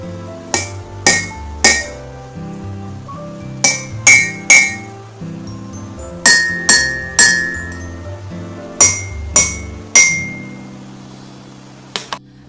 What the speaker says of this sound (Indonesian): mengamati dan mendengarkan bunyi dari air yang sudah dimasukkan ke dalam gelas